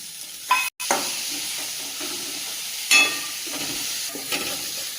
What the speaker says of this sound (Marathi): कांदा करपूस भाजल्यानंतर त्यामध्ये थोडा टोमॅटो टाकून घ्यावा।